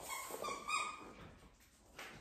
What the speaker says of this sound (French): je peux pas empêcher ma chienne de jouer